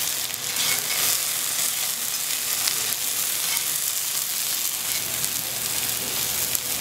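Peas and morels warming through with ramps in a Le Creuset pan, a steady close sizzle and crackle of frying with occasional stirring, continuous and fairly loud with no talking.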